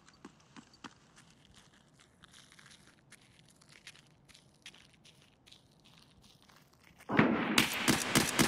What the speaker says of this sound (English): I think I'm gonna throw a nade over there and then see if he'll move